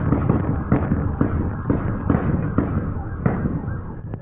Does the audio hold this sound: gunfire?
yes